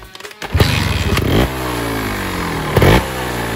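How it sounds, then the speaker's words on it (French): Motorcycle engine revved hard in neutral on a trip in Corsica, close and loud, with sharp rising throttle blips followed by a falling, steady idle. "Mets des grands coups d'accélérateur, là."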